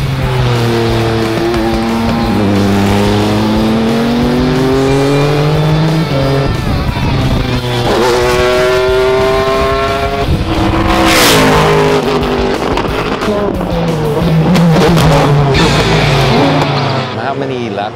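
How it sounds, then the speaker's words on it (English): Loud GT3 race car engines roar past one after another at Fuji Speedway, their pitch sweeping up and down as they accelerate and shift, with talk partly buried underneath. "Some GT3 cars. It's pretty amazing stuff as they blast past you."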